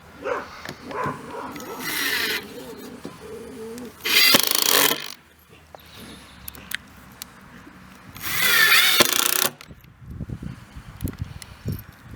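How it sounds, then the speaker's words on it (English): A power drill drives 1 1/4 inch screws through wood into a 2x4 while building a raised garden box bench, heard as two loud whirring bursts a few seconds apart, with quieter handling noises and some talk between them. "So first I'll put in these 1 1/4 inch screws."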